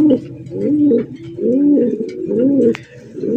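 A pair of red Indian Bombay pigeons coo close by in repeated rolling phrases, each swelling and fading, with a brief click near the end; no voices.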